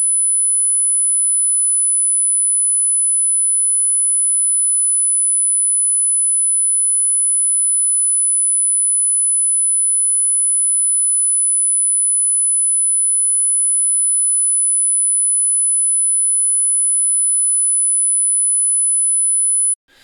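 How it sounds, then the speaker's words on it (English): A pure, steady 10 kHz test tone sounds loud and unbroken for about twenty seconds, then stops abruptly. "You turn up your monitors till you can hear that 10K signal"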